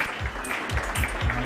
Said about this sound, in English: Big round of applause for Francisca and Franco.